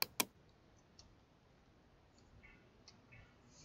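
Two sharp, close mouse clicks at the start while choosing a stroke layer style in Photoshop, followed by faint scattered ticks over quiet background.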